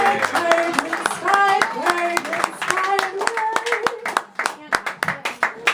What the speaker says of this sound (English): keep clapping till she gets up here